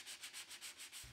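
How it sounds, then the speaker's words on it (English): Sandpaper rubs across a painted wooden dresser in even back-and-forth strokes, about seven quick rasping passes in a steady rhythm, close and fairly quiet. "I'll finish this process by sanding with 220 grit sandpaper in preparation for the stain"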